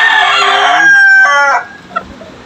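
A hen, mother of a pumpkin-colored gamefowl rooster, calls loudly and close for about a second and a half with harmonic crowing-like cries, then falls quiet apart from a couple of faint clucks.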